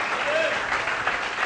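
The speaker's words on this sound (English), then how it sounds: "Give yourselves a round of applause." An audience at a church gathering claps together in a short, dense burst of applause that stays steady throughout.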